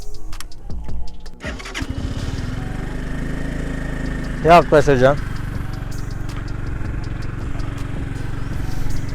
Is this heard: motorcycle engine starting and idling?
yes